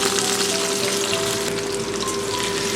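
Sliced spring onions and thin potato slices sizzle steadily in hot oil in a pan, a loud continuous frying hiss with faint crackles throughout.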